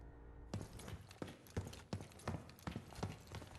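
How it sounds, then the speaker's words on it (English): Spatial footsteps in the shooter game Black Ops 6 thud in a quick, regular series after a moment of quiet, each step a sharp, faint impact. "Here is their example of spatial footsteps."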